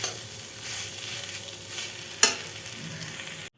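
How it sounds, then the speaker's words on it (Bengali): Beans and potato sauté with spices in a pan, sizzling and frying steadily while being stirred, with one sharp clatter of a utensil partway through and no talking. "এখানে বিনস আর আলুটাকে মশলার সাথে একটু কষিয়ে নিচ্ছি।"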